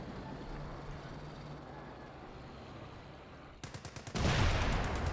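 In Company of Heroes, set in the Netherlands in 1944, a rapid run of rocket launches from a massive barrage strikes German forces, ending in a loud, rumbling wash of impacts after a quieter stretch of ambient battle noise.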